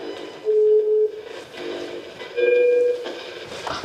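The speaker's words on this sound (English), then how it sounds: "the pleading call button tones continue" Two sustained electronic call button tones, each about half a second long, separated by a short pause, ringing clearly over a faint background hum.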